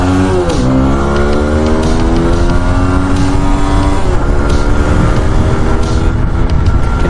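A TVS Apache RTR 4V motorcycle accelerates hard along the Mawa highway, its engine whine climbing through gear shifts, loud and close over steady wind roar.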